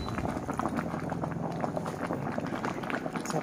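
Fish curry soup at a rolling boil in a pot, a steady dense bubbling and gurgling that runs throughout at close range, with faint speech in the background.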